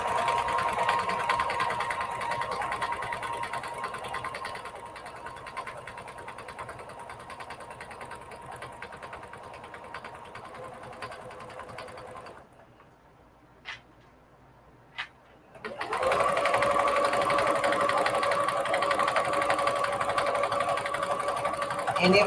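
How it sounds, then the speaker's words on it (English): A Brother manual sewing machine runs steadily, stitching batting onto quilt blocks with a fast, continuous whir. The machine stops for a few seconds with a couple of small clicks, then starts sewing again just as loudly. "I'm just going to use the edge of my presser foot to sew down"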